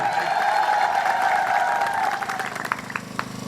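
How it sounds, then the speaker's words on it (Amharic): Sustained clapping from a church congregation celebrating a Saint Mary feast day, with a thin high ululating trill riding over it early on, then thinning into scattered claps toward the end. "ምነው እልልታው ጭብጨባው ያንስ?"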